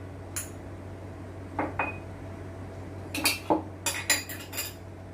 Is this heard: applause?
no